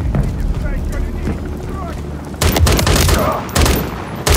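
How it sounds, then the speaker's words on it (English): Enemy gunfire in the Modern Warfare III campaign, played on Xbox Series S: low battlefield ambience gives way to loud, heavy bursts of rapid fire that surge in midway and return again near the end. "There's enemy fire."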